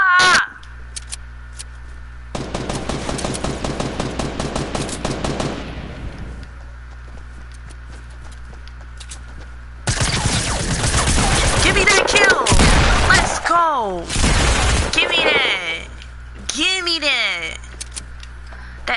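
Rapid SMG gunfire in Fortnite, long bursts of dense automatic shots in two main stretches with brief chirping game effects between, loud and close.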